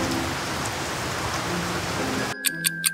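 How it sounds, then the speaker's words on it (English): Heavy rain pours down in a steady dense hiss, then cuts off abruptly, followed by a few faint rhythmic tones. "Suddenly rain started to pour down on Marshall"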